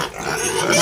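Hungry pigs at feeding time give a short, loud burst of grunting and squealing, rough and close up, lasting under a second.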